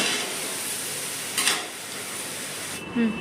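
Green chilli and tomato chutney frying in a pan, a steady close sizzle and hiss with two brief louder stirring scrapes.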